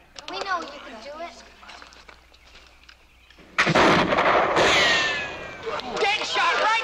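A single sharp rifle crack at an outdoor frontier shooting contest for a turkey prize, a loud burst with a lingering echo following talk and crowd murmur, then more voices.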